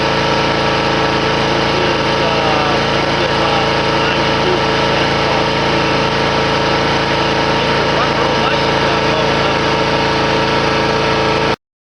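A Kawasaki FR691V mower engine runs at a constant loud, steady drone, close up and unbroken, with a fixed tone throughout until it cuts off abruptly at the end.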